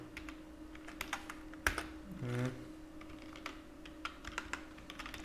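Code being typed into Sublime Text on a computer keyboard, with sparse, irregular key clicks and one sharper knock over a low background hum, close and moderately quiet, without speech.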